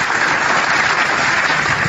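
Brief burst of hand clapping, loud and steady throughout, dense and without pauses, during an Indonesian online talk broadcast.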